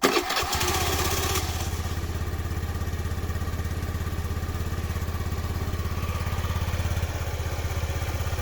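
A 2011 Honda Dio 110 scooter engine cranks and catches after a brief start-up burst, then settles into a steady, even putter at idle, close by and fairly loud, with no speech over it.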